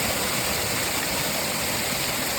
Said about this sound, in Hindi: ये देखिए गाइस, ये हमारा वाटरफॉल है